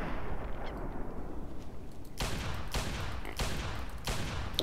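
Gunfire in the video game Fallout 3, several sharp, loud shots spaced about a second apart in the second half, following a stretch of noisy ambient background.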